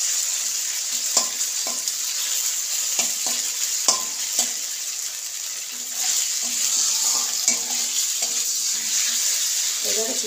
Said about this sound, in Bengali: চিকেনটা আমি ভেজে নেব।